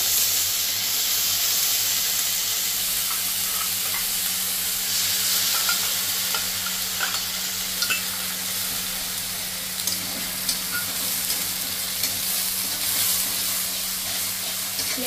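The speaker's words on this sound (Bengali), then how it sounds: "পেঁয়াজের জলটা যতক্ষণ না শুকিয়ে যাচ্ছে ততক্ষণ এটাকে এইভাবে কষিয়ে রান্না করতে হবে।" Onion paste fries in a pan for a koi fish dish and is stirred steadily. A continuous close sizzle hisses throughout, with small scraping taps of the spoon scattered across it.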